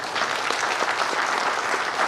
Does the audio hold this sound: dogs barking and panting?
no